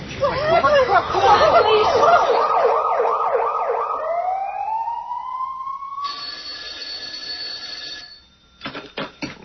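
A loud wailing ambulance siren cycles rapidly, then shifts to a rising tone and a steady electronic warble, ending with a few sharp knocks.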